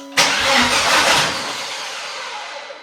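A Volvo S60 engine with an engine malfunction warning cranks over with a sudden loud start, churning for a couple of seconds before fading, close by with no talking.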